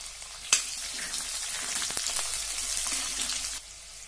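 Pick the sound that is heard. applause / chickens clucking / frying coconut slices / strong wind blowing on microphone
frying coconut slices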